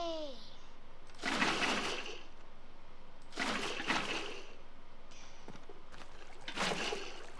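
Water splashes in the Minecraft game in three separate swishing bursts a couple of seconds apart, each rising and fading over a quiet background.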